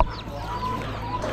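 A rooster at an Amish animal auction gives short, close clucks, with other fowl murmuring and a low steady hum from the barn beneath.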